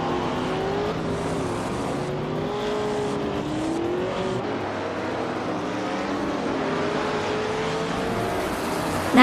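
Race cars in a video game pulling away from the start at Sportsland Sugo, led by a classic 1969 Porsche 908/2 Spider, their engines a steady, dense roar with rising and falling revs throughout.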